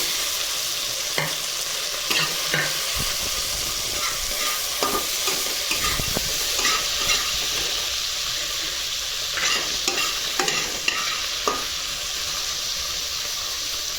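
Eggplant frying in a pan gives a continuous close sizzle, broken by scattered scraping clacks of a spatula stirring at irregular moments, with no speech.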